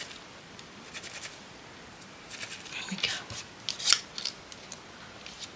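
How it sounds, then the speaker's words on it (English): Scissors snip into paper for a craft project in a few quiet, close cuts that cluster toward the end, with the faint rasp of paper between them. "I'm going to cut just into that little bit so it doesn't look so flat at the top."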